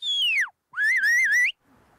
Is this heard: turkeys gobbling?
no